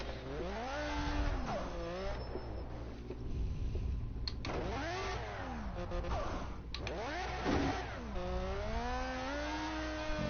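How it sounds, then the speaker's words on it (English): A car engine in a driving video game revs up and down in repeated sweeping surges over a steady low drone, sounding close and continuous while it bogs down under load. "This has bogged the engine completely."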